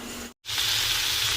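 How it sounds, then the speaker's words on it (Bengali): Taruli fritters frying in a pan, a steady bright sizzle of hot oil that cuts out briefly and then resumes loudly and continuously close by. "শেষে তরুলিটা ভাজতে দিয়েছি"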